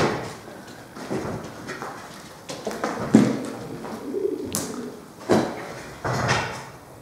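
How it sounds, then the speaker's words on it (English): Pigeons coo intermittently around a hall grounds, with soft scuffing footstep-like pattering from their walking scattered across the stretch, moderately close. "You know it's the pigeons, but they don't half sound like fucking footsteps."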